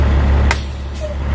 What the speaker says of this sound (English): Well, the parking brake is depressed.